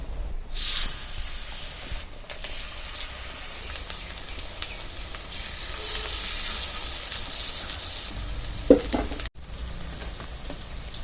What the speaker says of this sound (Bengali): পাট পাতার ডগাগুলো মিশিয়ে মিশিয়ে এভাবে করেই ভেজে নিতে হবে।